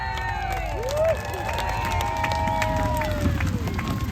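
Airshow crowd cheering and shouting as a Yak-52 lands, a broad wash of mixed voices with whistles and yells, steady and moderately loud.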